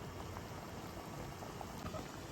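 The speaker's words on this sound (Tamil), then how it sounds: "ஒரு 2 நிமிஷம் கொதிக்கட்டும்." Steady bubbling of kolukattai payasam boiling in a pot, a continuous close simmer with small pops throughout and no voices.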